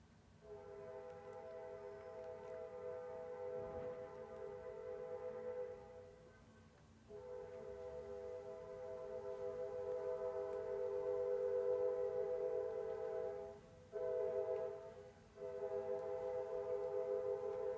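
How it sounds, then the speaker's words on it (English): A train horn blares steadily in the distance with several brief breaks while a passing train rumbles underneath, fairly loud and sustained, with no talk over it. "You'll have to excuse the trains in my area, y'all. They're awful with that horn."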